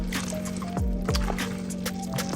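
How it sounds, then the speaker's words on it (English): Pinto beans stirred in a pot, with soft wet squelching and sloshing as a spoon scrapes through, a few brief strokes close by and no talk. "We're going to stir all that goodness up together."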